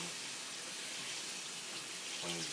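Tap water runs steadily into a sink as vegetables are rinsed beneath it, a constant close hiss and splash that continues throughout with a brief change in the flow near the end.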